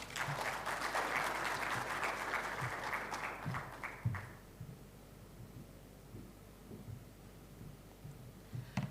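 Audience applause at a Rwanda mining investment event rings out loudly for about four seconds, then cuts off, leaving quiet room noise with scattered soft knocks.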